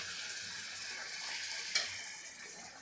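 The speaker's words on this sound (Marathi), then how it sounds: "तेल छान असं गरम झालेलं आणि त्यामध्ये आता आपल्याला पुरी सोडून घ्यायची आहे" Puris deep-frying in hot oil for puri bhaji give a steady, dense sizzle and crackle, close and continuous, with one sharper pop partway through and no voices.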